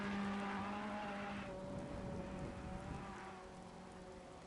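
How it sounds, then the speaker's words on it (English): Steady hiss of heavy rain with low thunder rumbling through a stormy Monza race in a video game, a car passing faintly beneath, continuous and fairly loud throughout. "You can hear the thunderstorms as well as Darskell goes through the Ascari chicane."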